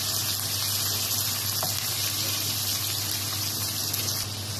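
Shrimp and bean sprouts sauté in a hot pan with a steady, loud, continuous sizzle. The bright crackling frying noise holds evenly throughout.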